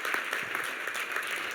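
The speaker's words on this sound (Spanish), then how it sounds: "Le da ese aplauso, el que tiene la razón es el Señor." A church congregation claps for the Lord during a Thursday service, producing a continuous, lively burst of applause with a loose, uneven rhythm and no voices over it.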